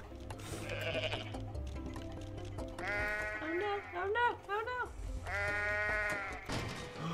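A goat yelling in the Goat Simulator video game, loud bleating cries with wavering pitch, repeated several times over low background sound.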